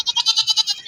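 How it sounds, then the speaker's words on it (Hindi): A young male Barbari goat kid, about two months old, lets out a single close, loud, wavering bleat that pulses rapidly before trailing off. "मेरे पास ये बकरा है बर्बरी"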